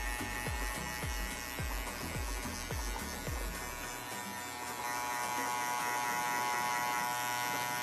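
Electric hair clippers buzz steadily close up while cutting a fade, with a run of quick rhythmic pulses early on before settling into an even hum.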